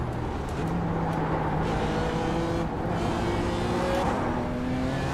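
Porsche and BMW race cars lapping in iRacing, a steady engine drone with rising and falling gear tones as several cars run together at moderate distance, continuous and without talk.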